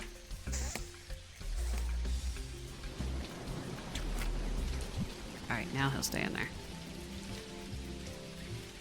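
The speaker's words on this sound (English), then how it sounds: "Alright, there's our rain. We don't have to water our crops" Rain falls in the farming video game Dinkum, a steady hissing patter with occasional heavier drops, running under a man's speech and scattered game sound effects.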